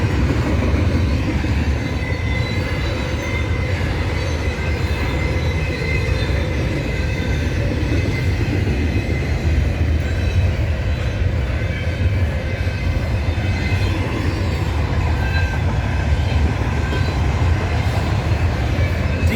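A Canadian Pacific freight train hauling auto racks rolls past in Maple Creek, Saskatchewan, a loud steady rumble of wheels and cars with faint clicking and squeal throughout.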